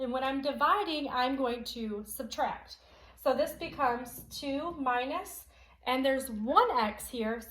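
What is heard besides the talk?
No distinct noise like a dog, phone or traffic.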